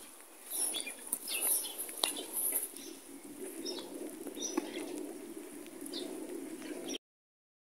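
Birds in a snowy street in Vladivostok, Russia, give scattered faint chirps among light pattering and soft rustling, with no talk, and the sound cuts to silence near the end.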